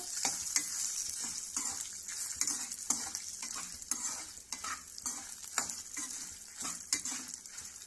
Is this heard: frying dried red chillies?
yes